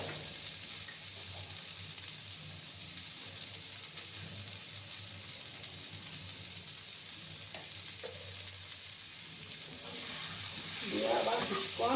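Potatoes and green peas with spices frying in a pan, a quiet continuous sizzle with occasional stirring scrapes, rising into a louder burst of sizzling near the end.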